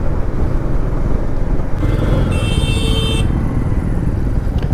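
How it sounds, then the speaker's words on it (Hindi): A motorcycle engine drones steadily with a rough exhaust rumble from the silencer, rising briefly in pitch as the throttle opens, against steady wind noise on an Indian road. "ये जो आवाज़ आ रही है ना, जैसे ही थ्रॉटल खींचो साइलेंसर से, मज़ा आता है सुन के"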